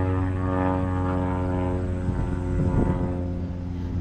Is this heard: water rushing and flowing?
no